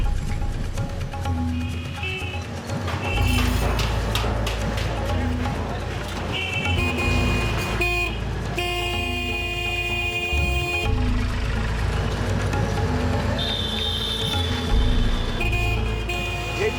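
Busy, crowded street traffic heard from a rickshaw, with repeated car and rickshaw horns honking over a steady rumble of engines, close and loud throughout.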